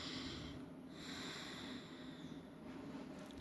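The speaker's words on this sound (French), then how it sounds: "je vais vous inviter à respirer profondément" Slow, deep breathing close to the microphone during a meditation exercise, long airy inhales and exhales with a nasal, snort-like edge, no talking.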